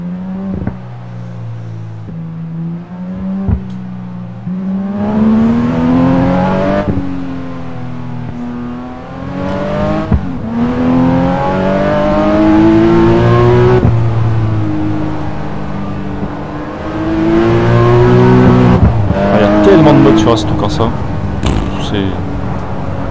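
A car engine driving along the Pacific Coast road in the Assetto Corsa racing game, moderate revs rising and falling through gear changes at a relaxed pace, with someone talking in French over the steady drone.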